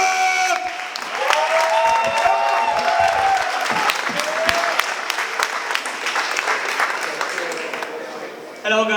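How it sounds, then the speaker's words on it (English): A large audience at a startup pitch event applauds loudly and continuously for a team, with some cheering mixed in, before a lone voice begins at the very end. "Please give a massive, massive round of applause to Alternatrip!"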